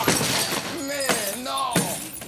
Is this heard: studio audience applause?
no